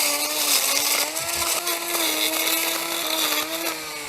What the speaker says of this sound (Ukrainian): Так, друзі, я наголошую, що це не коса, це тример.